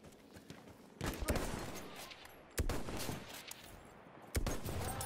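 Machine gun in Battlefield 1 multiplayer firing long sustained bursts, three loud rattling volleys separated by brief pauses, close and harsh.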